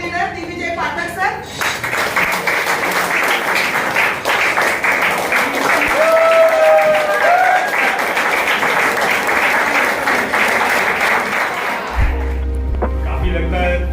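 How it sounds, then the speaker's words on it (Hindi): An audience claps loudly in sustained applause to welcome a speaker at a product information session, a dense continuous roar of hands for about ten seconds, with a voice heard before it starts and after it fades. "तो जोरदार तालियों के साथ में उनका स्वागत कर लेते हैं"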